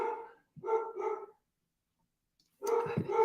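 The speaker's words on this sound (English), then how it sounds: "Sorry for my dog barking in the background." A dog barks close by in two short bursts, a couple of quick barks, a pause of silence, then another double bark.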